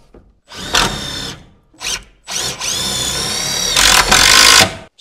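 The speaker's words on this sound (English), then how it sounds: "I'm going to be using my new Milwaukee drill." A Milwaukee cordless drill drives self-tapping screws in several close whirring bursts, some short and some held for over a second, with quiet gaps between them.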